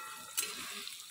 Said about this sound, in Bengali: এখন আলু ভাজা বসিয়ে দিয়েছি।